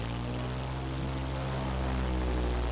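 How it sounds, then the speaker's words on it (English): A North American P-51 Mustang's piston engine drones steadily in flight in Flight Simulator X, a loud, continuous propeller roar with a deep, even note and no voices. "Very soothing engine note."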